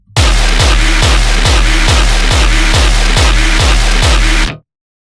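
A loud, layered synth bass pulsing in an even rhythm, deep thumping low notes under a bright, noisy clicking layer, cutting off abruptly at the end.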